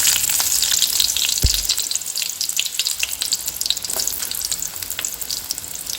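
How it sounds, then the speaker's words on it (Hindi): Onion hits hot oil with a loud initial thump and bursts into a dense, steady sizzle, close up, with faint stirring scrapes and no talking. "तेल हमारा अच्छे से गर्म हो चुका है ना, तो अब इसमें डालूंगी ओनियन"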